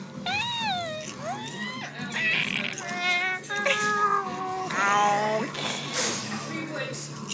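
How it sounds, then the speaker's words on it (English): A cat meows repeatedly in loud, drawn-out, wavering cries, several in a row, while people talk and laugh nearby. "I think we obviously go into cat calls right now."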